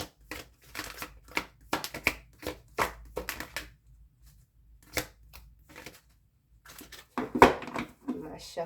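Cards being shuffled in repeated riffling bursts, close and crisp, with short pauses between rounds and a brief lull before a final busier flurry.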